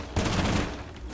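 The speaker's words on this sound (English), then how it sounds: "Are you using your pistol to try and shoot open the hatch?" Pistol shots fired at a hatch in Rainbow Six Siege ring out as a quick loud cluster of close reports, then fade into a brief decaying tail.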